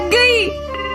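A telephone ringtone in a cartoon gives a single bright, rising electronic trill, then a brief fainter chirp, loud and close over a low background hum.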